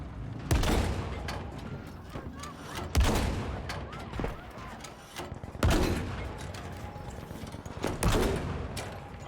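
Gunfire in the video game Battlefield 5 as scattered loud shots and booming impacts in a battlefield mix, some bursts closer and heavier than others, with occasional talk.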